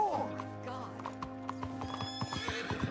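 Horse hooves clip-clop at a steady walking pace while a horse whinnies near the start in the Western game Red Dead Redemption 2, with faint background voices under the hoofbeats.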